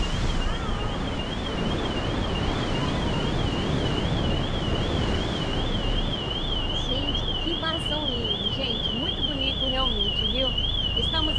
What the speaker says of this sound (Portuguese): Disparou o alarme.